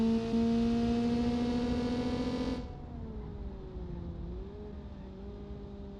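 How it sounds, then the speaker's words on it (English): Simulated car engine in the BeamNG driving game, a Kiev Motors 14, held near its limit with a steady warbling drone that wavers in pitch, then drops and settles lower with a wobble, loud and alone. "That's kind of a weird warble in her engine noise."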